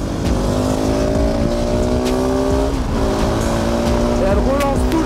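Supermoto motorcycle revving hard in a racing video game, engine pitch climbing and dropping through quick gear shifts, loud and continuous throughout.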